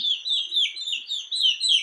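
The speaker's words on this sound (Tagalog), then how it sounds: "Ingay nitong mga sisiw." Hungry chicks chirping, a rapid run of high, thin peeps repeating without pause, close and fairly loud.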